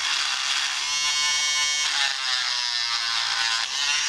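A Chicago Electric mini rotary tool with an added speed control runs at half speed, giving a steady, loud, high-pitched electric whine with a slight waver, heard alone.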